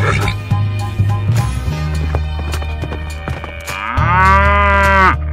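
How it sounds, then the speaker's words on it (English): A cow moos loudly and long near the end, preceded by busy music and playful sounds, with a voice in the mix. "Cow."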